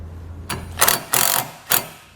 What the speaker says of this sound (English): we'll tighten it down with an 8mm socket